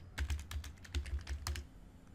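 Quick, light keystrokes on a computer keyboard, about eight close taps in an uneven burst with a short pause in the middle, recorded close up and heard alone.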